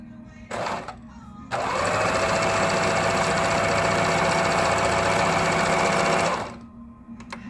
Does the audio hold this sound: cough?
no